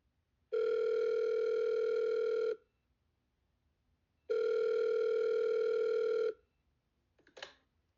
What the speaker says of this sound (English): A mysterious phone call is made to the Carvel home